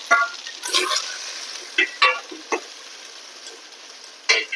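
Small shallots and onions sautéing in a pan over a steady sizzle, with occasional stirring scrapes and light clicks close by, no talk.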